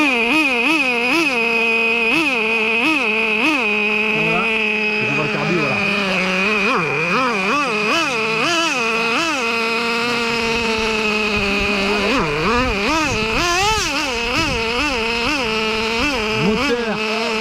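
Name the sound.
nitro RC car engine starting and running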